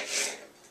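A knife slices through an onion for guacamole, a short raspy cut peaking early then trailing off, close and alone with no talk.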